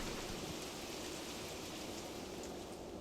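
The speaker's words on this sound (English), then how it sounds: "it looks like the rain is slowing down, but no, it looks like it's only getting worse" Heavy, steady rain pours in a World War II artillery video game, a dense continuous hiss of rainfall with no pauses and no voices.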